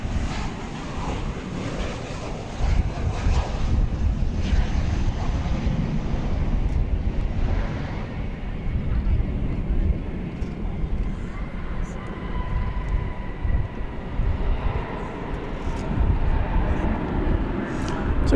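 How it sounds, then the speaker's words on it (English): An American Airlines Boeing 737-800 jet at DFW Airport, a continuous low engine roar with wind buffeting the microphone, and a person talking over it throughout. "It's American 737-800, flight 1686 from Kalispell, Montana."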